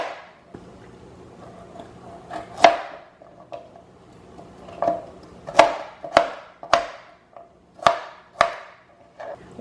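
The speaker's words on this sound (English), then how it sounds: "I'm going to go ahead and I'm going to start chopping" Knife chopping vegetables on a cutting board for a chicken stir fry, a series of sharp close knocks, sparse at first and then a steadier run of about eight crisp chops, with no speech.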